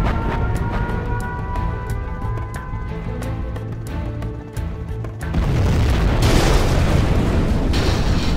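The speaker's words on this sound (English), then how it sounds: "We have launched our nuclear missile." Steady rhythmic ticking plays, then a loud, deep rumbling nuclear missile explosion from Command & Conquer Generals Zero Hour bursts in and keeps roaring and crackling at full strength.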